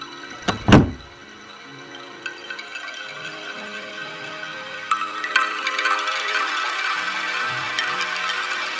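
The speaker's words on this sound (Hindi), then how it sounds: "श्याम ने धीरे से वह दरवाजा खोल दिया" A magical door in an animated Hindi fairy tale swings slowly open: a single heavy thunk near the start, then a quiet pause, then a bright, shimmering swell that builds and lingers to the end, with no voices.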